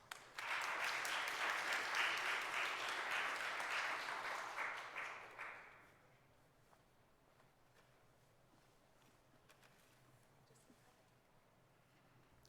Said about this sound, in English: please join me with a round of applause and help me welcome Vicki Landers